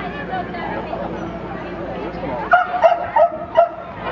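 Dogs at an Ultimate Air Dogs dock jumping event give several short yips and barks in the last second and a half, rising over a steady crowd murmur and a commentator's voice.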